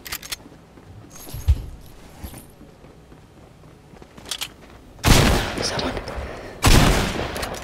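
Video game shotgun fire with two loud, broad blasts near the end and lighter clicks and footsteps before them, heard close and with no talking.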